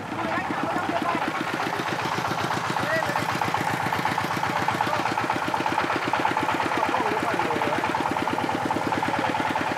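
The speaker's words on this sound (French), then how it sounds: "Sa pétarade se fait écho dans les montagnes." A makeshift homemade truck's small engine sputters with a steady, rapid chugging rhythm throughout, echoing in the mountains of Vietnam, loud and close, while a voice talks over it.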